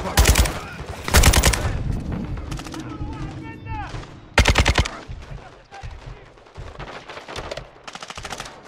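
Dense automatic gunfire and sharp shot bursts from a Call of Duty: Modern Warfare II realism campaign firefight, loud and close, with shouted voices between the volleys.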